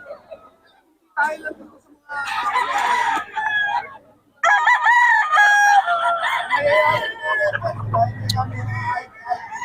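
Several roosters crow loudly and close by at a market in Bocaue, their calls overlapping in bursts, with hens clucking and people chattering in between.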